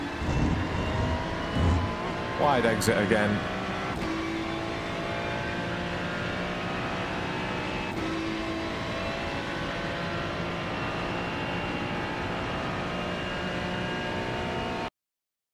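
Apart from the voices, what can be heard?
Ferrari 296 GT3 engine accelerating at Monza in video game iRacing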